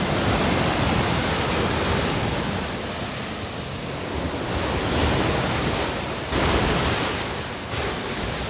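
Sea waves on the coast of Ilocos, Philippines, rolling in as a steady, loud broadband wash with gentle swells and no voices.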